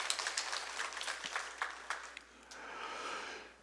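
A church congregation claps at a district prayer meeting, a soft crackling patter that fades over a few seconds before a sharp noise at the end.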